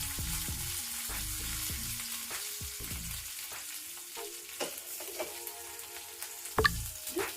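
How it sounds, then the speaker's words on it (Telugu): Chopped green chillies fry in a pan with a steady close sizzle, broken by scraping stirs and a few clinks of a spoon against the metal. No one speaks. "పచ్చిమిర్చి ముక్కలు కొంచెం వేయించుకోవాలండి"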